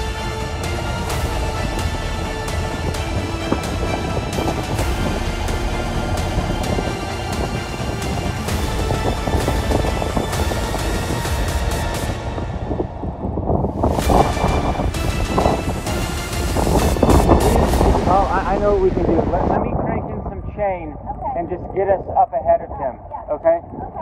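Storm wind gusts buffet an anchored boat, a loud, continuous roaring rush with heavy low rumble that swells and surges, while a person talks over it for much of the stretch.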